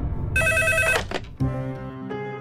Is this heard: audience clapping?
no